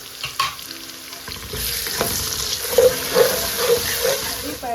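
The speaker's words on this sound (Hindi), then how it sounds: "लहसुन अदरक जो है वो अच्छे से उसका भुनाई हो गई है" Garlic ginger paste fries in a pan, sizzling steadily while a utensil scrapes and stirs it, with a few sharper clinks of the spoon against the pan.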